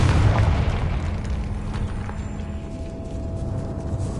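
A Confringo explosion spell goes off in Hogwarts Legacy inside a decayed catacomb, a deep boom at the start whose rumble fades into a low sustained tail, with no talking.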